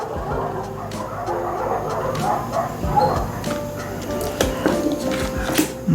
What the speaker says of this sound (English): street dogs are barking.